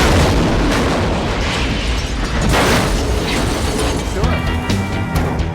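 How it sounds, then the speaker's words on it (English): A gas tank on a Cadillac blows up after being shot with bullets at a firing range, a loud sustained blast and roar of burning that fills the whole span, with rumbling debris and a brief tonal ring near the end. "like the exploding gas tank that we did"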